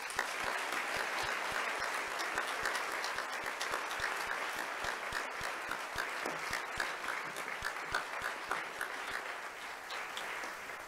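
An audience at an annual event applauds steadily to welcome a speaker, dense continuous clapping from a large crowd that holds at an even level throughout.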